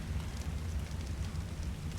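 Rain falling in the video game ARK Survival Evolved, a steady, dense hiss of drops with a low rumbling undertone, continuous and even throughout, with no voices.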